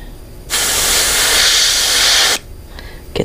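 An aerosol spray paint can hisses in one loud, steady burst of about two seconds while graffiti is painted at a holiday spray session, then cuts off, leaving faint background noise.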